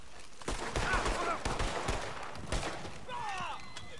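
Gunfire in Red Dead Online, several sharp shots cracking at irregular intervals, fairly close, with voices chattering underneath and brief whistling tones near the end.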